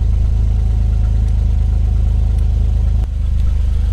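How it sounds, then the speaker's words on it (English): Suzuki Every turbo van engine idling close by with a steady low rumble and a faint relay tick, the engine note dropping briefly near the end; no one speaks. "There's a relay ticking on and off."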